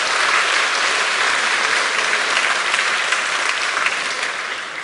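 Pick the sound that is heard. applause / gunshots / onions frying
applause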